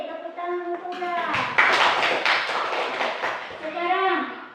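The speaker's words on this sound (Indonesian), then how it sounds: "Tepuk tangan untuk ular." A classroom bursts into applause, a dense patter of many hands clapping for a few seconds, with voices talking before and after it.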